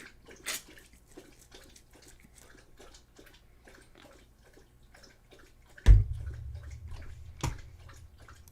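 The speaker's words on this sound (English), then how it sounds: "He's lapping up some water." A thirsty dog laps up water in quick, soft, rhythmic wet ticks, close by and fairly quiet, with a couple of louder knocks partway through.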